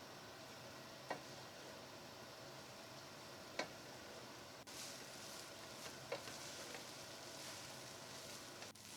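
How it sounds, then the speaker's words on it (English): Rice being stirred into a pot of seafood pulao, a soft steady sizzle with a few scattered spoon taps and scrapes against the pot, quiet and close. "Now we will add the rice into the pot. And mix it in with the rest of the ingredients."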